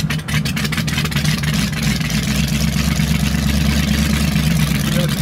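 A 1970s Ford Pinto drag car engine idles steadily up close, a loud, constant low rumble that holds without revving throughout.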